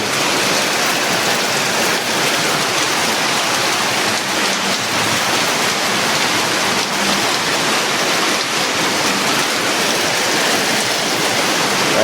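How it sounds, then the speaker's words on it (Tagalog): Heavy rain pours down steadily, a dense, continuous hiss of drops hammering surfaces with no pauses. "Grabe lakas ng ulan."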